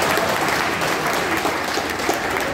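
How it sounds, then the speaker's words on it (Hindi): Loud, dense audience applause at a finance company's 35th foundation day celebration, a continuous even wash of clapping from a large crowd with no break. "बहुत ही जोर से आपको तालियां बजानी चाहिए"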